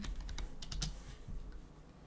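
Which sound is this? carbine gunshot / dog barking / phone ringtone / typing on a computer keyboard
typing on a computer keyboard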